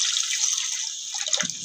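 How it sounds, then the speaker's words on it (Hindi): Water is poured into a pot of fried spices for garlic curry, giving a steady bright splashing rush that deepens into a lower gurgle near the end, close and loud with no talking. "अब इसके अंदर मैं पानी डाल दूँगी।"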